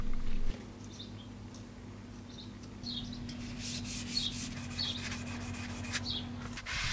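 Steady abrasive sanding on rusty limousine body panels, a continuous close rubbing texture with a low hum underneath and faint chirps scattered above.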